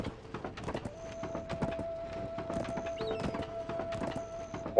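Horse hooves clip-clopping in the online game Black Desert, a quick irregular patter of hoofbeats with faint chiming game tones over it, moderately quiet and steady.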